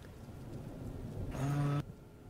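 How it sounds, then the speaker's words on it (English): Rain switched on in a mod of the video game Betrayal at House on the Hill, a low rushing patter with a brief louder tonal swell that cuts off sharply, no talk. "So yeah, this I can turn the rain off and then turn it back on again."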